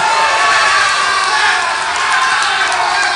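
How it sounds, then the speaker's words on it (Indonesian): Loud crowd response at a regency candidates' debate in Lampung, dense applause blended with cheering and shouting from a large audience, continuous and close throughout. "tepuk tangan yang meriah kepada kedua paslon."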